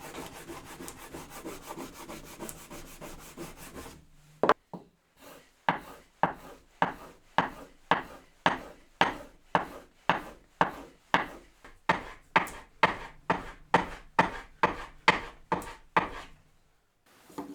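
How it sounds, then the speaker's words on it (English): A sharpened blade is drawn repeatedly along a strop loaded with polishing compound, giving about twenty evenly spaced, crisp swishing strokes up close after a brief burst of rubbing at the start. "Now, I can get some polishing compound onto my strop and give this several strops to remove any burrs."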